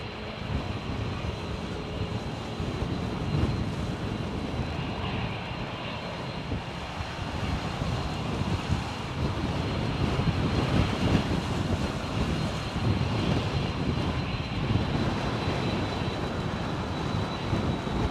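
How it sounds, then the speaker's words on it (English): An Emirates Airbus A380 airliner passes with a steady, broad engine roar that builds slightly and holds for the whole stretch, with no voices. "Emirates 380"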